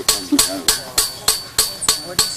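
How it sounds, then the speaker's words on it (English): A scythe blade is hammered (peened) on an anvil with sharp, ringing metallic strikes, about eight evenly spaced blows close by, each decaying quickly. "that's my son Mark, who is hammering the scythe here"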